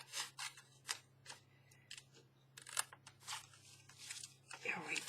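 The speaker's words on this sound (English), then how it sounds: "it's easier to cut these out when you can cut into that center piece" Scissors snip repeatedly through junk mail envelopes, a series of short close cuts and paper rustles in an uneven rhythm, with a steady low hum underneath.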